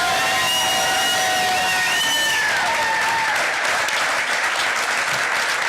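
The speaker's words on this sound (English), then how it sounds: "Please give her a round of applause" An election-night crowd applauds the attorney general's wife, sustained dense clapping and cheering throughout, with a whistling tone sliding over the applause in the first half.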